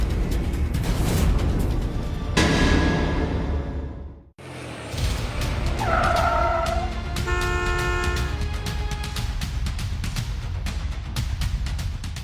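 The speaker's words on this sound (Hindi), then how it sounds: "लगता है आपकी कार आ गई है।" A car pulls up with a steady engine and road rush, then its horn gives a couple of short, loud toots close by amid busy traffic noise.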